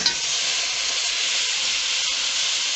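Beef with pilau masala hisses steadily in a hot frying pan, a loud, even sizzle filling the whole stretch with no pause.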